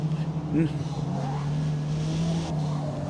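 Race car engine in Forza Motorsport, a steady loud hum with a slight rising tone under a voice talking over it.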